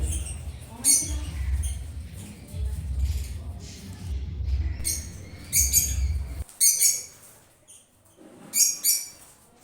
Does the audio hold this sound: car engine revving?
no